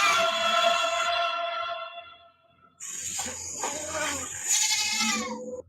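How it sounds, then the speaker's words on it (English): Several penned goats bleat loudly and repeatedly in wavering, drawn-out cries that overlap one another, close by and filling the whole stretch. "Penned in, the goats are making loads of noise as the owners get closer to see what the creature is."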